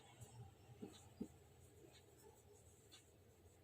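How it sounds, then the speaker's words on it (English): A pen or marker scratches faintly as a definition is written out in a math lesson on sequences, with quiet, irregular strokes over a low background hum. "I am writing the definition."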